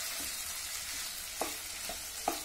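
Onions fry in a pan for dhaba-style chicken curry, giving a steady close sizzle. A spoon scrapes the pan a few times with soft knocks, and no one speaks.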